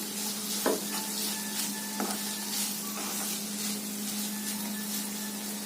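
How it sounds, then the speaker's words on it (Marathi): Cluster beans with fresh coriander sautéing in a pan give a steady broadband sizzle with occasional soft scrapes and clinks of stirring, close and continuous with no talk. "त्यामध्ये थोडी कोथिंबीर आता घालायची आहे, ती पण चांगली परतून घ्यायची आहे मिक्स करून"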